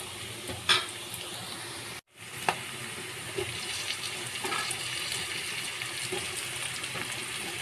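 Drumstick pieces go into a pan of frying onions with a sharp clatter, then a steady sizzle continues, close and even, with no voices.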